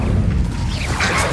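Fiery spell cast in Hogwarts Legacy, a dense rumbling crash with whooshing flare that stays loud and close throughout, no talk over it.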